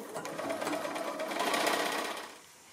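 A sewing machine stitches rows of quilt patches together for a house sampler block, running steadily and fairly close for about two seconds before slowing to a stop.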